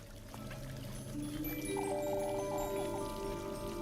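A fountain's water stream in a video game, a steady pouring trickle that swells slightly, heard alone under soft tonal game ambience.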